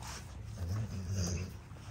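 XL American Bully dogs growl and grumble up close in a steady, low rumbling stretch with a few whimpering yips, and no one talks.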